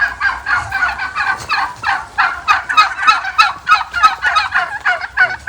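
Turkeys gobble on a turkey farm, a loud, close chorus of rapid, rattling gobbles that overlap and repeat in quick bursts for the whole stretch, with no talk.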